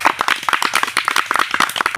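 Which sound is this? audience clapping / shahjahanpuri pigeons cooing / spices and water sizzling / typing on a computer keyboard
audience clapping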